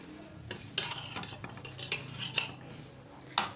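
Cumin and dried coriander spooned into a pan for black chickpea masala: a series of close metallic spoon clinks and taps on the pan over a faint sizzle, with no voice.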